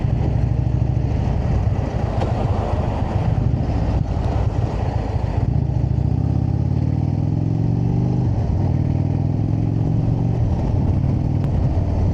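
An Indian Chieftain Limited motorcycle rolls into a parking lot, its engine rumbling steadily up close, with a rising tone near the end as the revs change.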